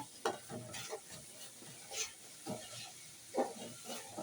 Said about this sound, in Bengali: দেখেন অসাধারণ কিন্তু ভাজাটা হইতে আছে